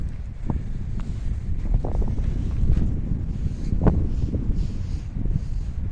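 Strong wind on a mountain buffeting the microphone in low rumbling gusts, steady throughout with a few brief rustles.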